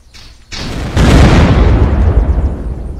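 A C4 charge detonates in the video game Unturned during a base raid. A faint rumble gives way to a sharp burst and then a loud, sustained roaring blast that holds for about two seconds with no talk over it.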